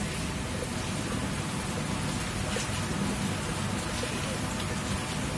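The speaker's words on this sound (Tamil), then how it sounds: "உட்காந்து மழை பெய்யறத வந்து வேடிக்கை." Heavy rain pours steadily onto surfaces nearby, a dense constant hiss with no breaks, while a kitten sits at a doorway watching it.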